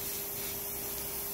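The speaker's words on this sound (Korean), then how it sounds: "막 사포질 하고 있고 서페이스 뿌리고 있고" Sandpaper rubs against plastic model parts in a hobby class, a continuous close hissing scrape with no breaks and no talk over it.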